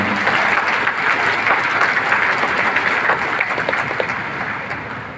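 Sustained applause from a large crowd at a Universitas Brawijaya graduation ceremony in 2022, dense and steady throughout, easing slightly toward the end.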